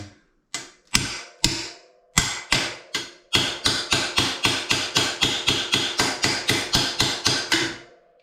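Metal hammer blows drive a pivot bearing out of an aluminium Saracen Ariel 16x bicycle frame: a few spaced strikes, then a fast, even run of sharp, ringing impacts close up, with no talking.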